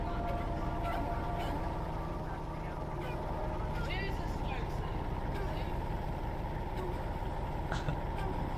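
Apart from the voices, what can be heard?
Chevy SS car engine running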